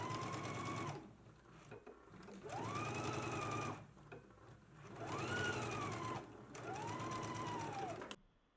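A sewing machine stitches darts in pant lining and main fabric, running in several whirring bursts with rising and falling motor pitch, close and steady, separated by brief pauses.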